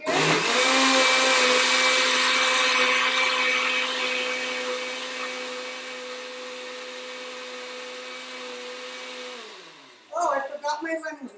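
A blender on high purees a vegan cheese sauce, a loud steady motor whine that holds for about nine seconds, eases slightly in pitch, then cuts off, followed by a few brief clattering knocks.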